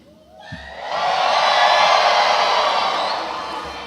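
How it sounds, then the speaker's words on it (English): Commencement audience at a university graduation cheering loudly, a broad crowd roar that swells in after a brief pause, holds steady for a couple of seconds, then slowly tapers off. "or you can cheer loudly"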